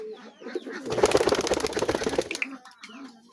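Pigeons coo softly and close by, low and repeated. A louder burst of fluttering and rustling fills the middle before the cooing returns alone.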